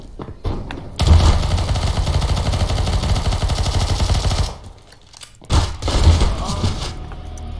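Rapid pistol gunfire in a Counter-Strike match, a dense run of loud shots lasting several seconds, a short lull, then a second burst.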